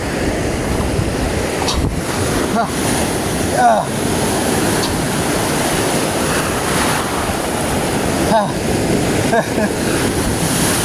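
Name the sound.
ocean waves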